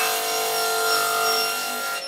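Jobsite circular saw with its blade spinning through wood, a loud, steady, bright high-pitched whine held throughout, close up with no talking.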